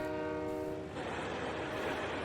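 A Union Pacific freight train's horn blares as a long steady chord, then gives way to the rumble and rattle of rolling railcars, loud and close beside a rural road at a farm field.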